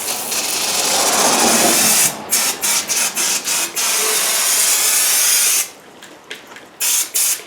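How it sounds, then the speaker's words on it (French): Brake cleaner sprayed from an aerosol can onto a tilted engine block from a 2010 Cadillac CTS: a loud, continuous hiss broken by several short bursts near the end, with no talking. "on y va avec le brake cleaner"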